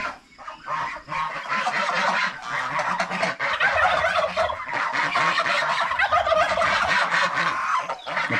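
A flock of farm turkeys gobbles loudly and continuously, with layered honking calls overlapping close by for several seconds.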